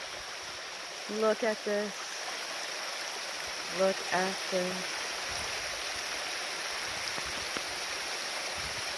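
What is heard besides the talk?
waterfall flowing in Transylvania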